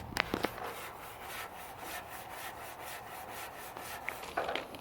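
Rust and mill scale being stripped down to bare metal on a Yerf Dog 3020 go-kart frame during a restoration, a steady close abrasive rubbing with an even back-and-forth rhythm, fairly quiet, with a few brief knocks at the start and end.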